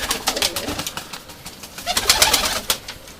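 Urfa Arab pigeons coo and shuffle close by, with soft repeated throaty calls and light fluttering and scratching sounds.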